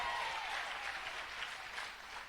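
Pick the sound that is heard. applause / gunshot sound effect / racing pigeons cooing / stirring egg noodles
applause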